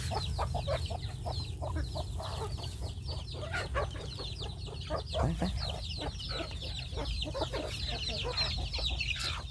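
Chickens cluck steadily and close by in a busy flock, with a constant low hum of farmyard noise underneath and no talk.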